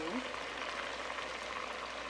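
Food fries in a pan during home cooking of a quick meal, a steady close hiss and sizzle with crackle throughout, no voice over it.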